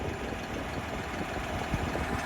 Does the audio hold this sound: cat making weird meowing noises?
no